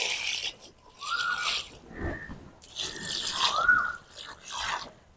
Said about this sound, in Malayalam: ഇനി നമുക്കൊന്ന് നനച്ചു കൊടുക്കാം.